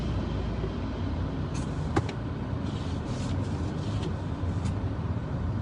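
A big truck clearing a snowy road rolls past beside a car, a steady broad road rumble heard from inside the car with a couple of faint clicks and knocks along the way.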